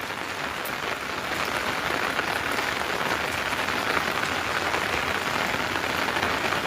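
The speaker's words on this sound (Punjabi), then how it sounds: "ਮੀਂਹ ਜ਼ੋਰ ਦਾ ਵਰਦਾ" Heavy rain pours steadily, a dense continuous hiss of drops hitting surfaces, loud and unbroken throughout.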